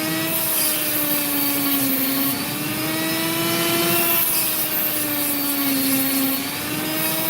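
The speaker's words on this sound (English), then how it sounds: "giving a little bit of a surface clean trying to get just the sand off it" Surface cleaning of a sand-covered opal with a small power tool, giving a steady, close, continuous whirring drone with a wavering pitch and rough scrubbing texture, heard alone for the whole stretch.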